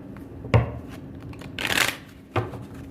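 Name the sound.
shuffling and pulling tarot cards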